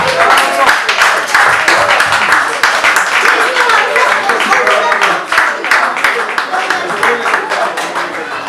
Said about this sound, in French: Je voudrais qu'on puisse les applaudir.